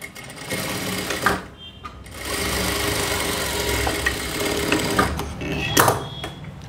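Sewing machine stitching a blouse lining to the main cloth, rapid mechanical chattering in bursts with brief stops between runs, close and clear.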